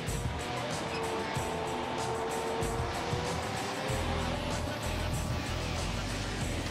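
Bradley fighting vehicle being driven, its engine a steady low drone with broadband mechanical and track noise, continuous and even throughout.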